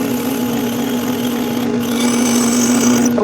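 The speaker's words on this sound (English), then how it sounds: "We don't want to go too fast with the drilling either" A power drill bores a hole into a clutch cable end, a loud, close, continuous whine with a steady pitch that shifts slightly partway through and cuts off at the end.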